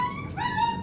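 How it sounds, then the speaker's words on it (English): A dog gives a brief, high, yelping bark at children jumping on a trampoline, close by and lasting under a second. "Alice is barking at the kids and Jude's barking at Alice"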